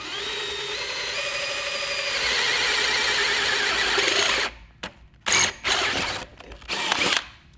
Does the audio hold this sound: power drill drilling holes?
yes